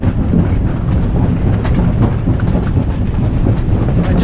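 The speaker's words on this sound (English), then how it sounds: "It's raging, it's pelting down rain. Waves are crashing." A gale at sea off the Azores, heard from a single-handed sailing boat, roars loudly and continuously with pelting rain, howling wind and crashing waves, with no voices.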